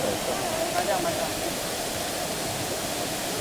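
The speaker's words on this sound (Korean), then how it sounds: "여기는 제주 서귀포 천재연 폭포입니다." Cheonjeyeon waterfall in Seogwipo, Jeju, produces a steady, dense broadband roar of falling water, constant and fairly distant, with no other sounds standing out.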